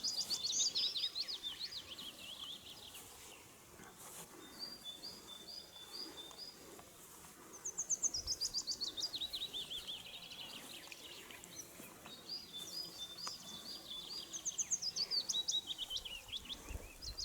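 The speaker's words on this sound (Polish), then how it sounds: "Ptaszki śpiewają." Birds sing and chirp in bright, repeated phrases, some near and some farther off, with short pauses between bursts over a quiet outdoor background.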